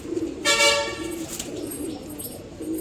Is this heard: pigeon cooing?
yes